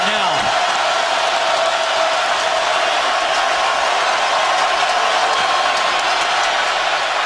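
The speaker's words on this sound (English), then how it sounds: "Nothing quiet about the Raven crowd right now." A Ravens home crowd in a packed stadium during an NFL game against the Bengals roars continuously, a broad loud wall of cheering and whoops that holds steady throughout.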